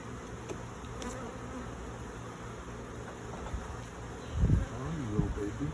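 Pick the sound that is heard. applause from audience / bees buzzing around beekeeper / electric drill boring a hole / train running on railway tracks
bees buzzing around beekeeper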